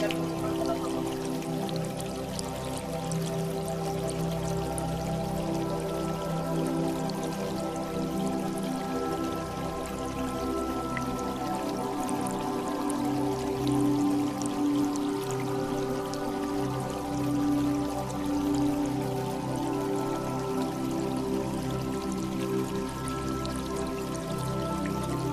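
Water trickles and pours inside the Bansilalpet stepwell, a steady, unbroken flow with a faint echoing hum under it, sustained and even throughout with no talking.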